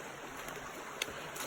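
Creek water flows steadily in a broad, soft rush with no break. It sounds fairly close but gentle, and nobody speaks.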